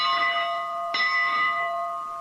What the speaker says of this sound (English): And here's the old bell up here out of it.